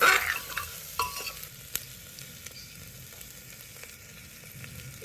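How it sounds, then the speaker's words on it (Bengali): Pieces of mutton leg are turned with vegetables in a pan, giving a soft sizzle with a few scraping knocks near the start, then a quieter steady fry. "সবজির সাথে একটু নাড়িয়ে নিচ্ছি"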